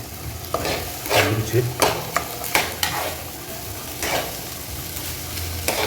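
Donuts frying in hot oil, with a steady crackling sizzle throughout, broken by repeated brief scraping and stirring clatters close by, no voices.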